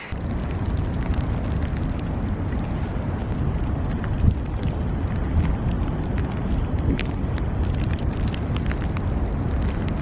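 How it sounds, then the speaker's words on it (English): Strong coastal wind blows sand over dunes, a loud constant rumbling buffet across the microphone with scattered gritty ticks. "it's so windy that all of the sand is just blowing over the sand dunes and right into my eyes and my camera"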